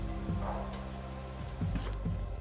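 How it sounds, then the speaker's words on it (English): Steady rain falling, a soft continuous patter, faint and even, with occasional slightly sharper drops and a low background rumble, no speech. "as the rain started to fall"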